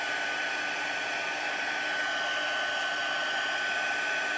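A heat tool blows steadily and loudly without pause, melting embossing powder on a stamped card during a stamping class; the constant airy whir fills the whole stretch with no talk over it.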